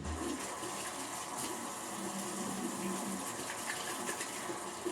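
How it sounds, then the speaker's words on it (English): Water runs steadily from a tap during handwashing, a soft, continuous splashing rush at low level with no voices. "Next step I do, gotta wash the hands."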